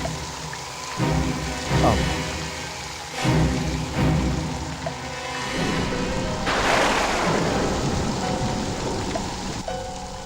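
Steady heavy rain roars throughout, a dense wash of noise that swells louder in the second half, with a few soft knocks near the start.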